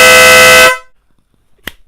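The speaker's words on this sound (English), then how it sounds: "And then for the sound horn, here we go." A Denali horn fitted to a motorcycle gives one loud, sustained blare lasting under a second and then cuts off sharply, followed by silence and a brief faint knock.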